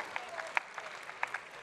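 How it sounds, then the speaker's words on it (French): Scattered hand claps pop out irregularly, a light sparse applause from a few people, fairly close. "Vous pouvez les applaudir"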